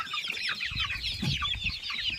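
Village chickens and small free-range chicks cluck and peep close by, a busy overlapping run of short calls with no talking.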